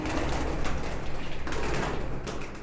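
Wild pigeons cooing in a loose series over a steady broadband background hiss, soft and somewhat distant, with no voices.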